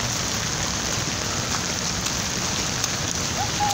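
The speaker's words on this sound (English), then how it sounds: "Look at the rain." Heavy rain storm pouring steadily, a dense continuous hiss of rain on surfaces, loud and close throughout without a break.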